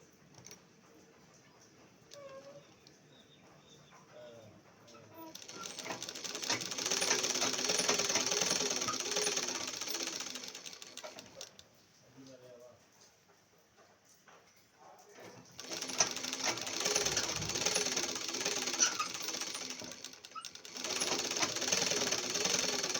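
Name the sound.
sewing machine stitching canvas onto chudidar pant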